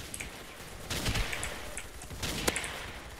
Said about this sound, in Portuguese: Tá de metralhadora!